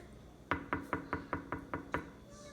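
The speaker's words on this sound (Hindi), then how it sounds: "दस्तक" Eight even knocks on a door, sharp and close, come at a steady quick rhythm in a quiet room with no talk over them.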